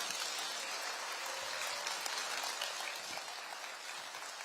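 Audience applause for Prime Minister Kim Min-seok at a public policy briefing in Jeonbuk, a steady, dense wash of clapping that holds for the full stretch without voices.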